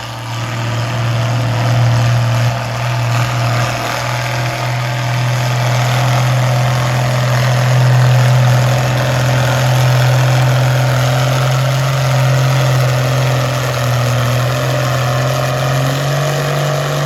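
A six-cylinder, 195 cubic inch Oliver 88 diesel tractor idles steadily at a county fair tractor pull, a loud, even low throb with a constant drone that holds unchanged for the whole stretch, with no talking over it.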